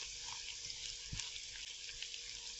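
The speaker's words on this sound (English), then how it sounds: "The bacon is ready. I'm just going to add our eggs to it." Bacon and onions sizzle steadily in a frying pan as eggs go in, making a soft, constant crackling hiss with a small clunk partway through.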